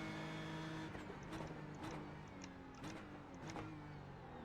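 A race car engine in a racing sim game whines and revs continuously, with steady tonal drone broken by several sharp shifts and brief bursts as it slows for a corner.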